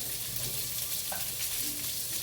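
Onion and garlic sauté in a hot pan with a continuous, even sizzle and soft crackle, close and steady throughout.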